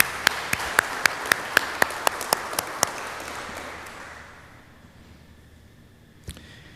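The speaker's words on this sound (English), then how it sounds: "round of applause for setting this all up" At a regional public works training conference, a small audience applauds with a few distinct, evenly spaced claps standing out over softer clapping, fading to quiet after a few seconds.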